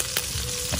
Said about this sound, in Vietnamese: Mình chiên bằng lửa than không hả mẹ? Do cá này cũng hơi nhỏ nên là mình chiên cũng mau.